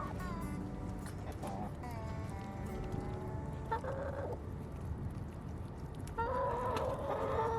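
Backyard chickens clucking and squawking nearby, with a rooster-like call and repeated throaty clucks over steady background noise; a voice may be faintly present.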